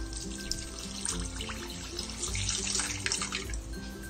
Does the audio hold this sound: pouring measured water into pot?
yes